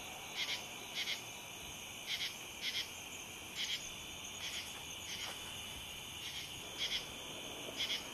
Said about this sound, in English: A little tree frog, you hear him?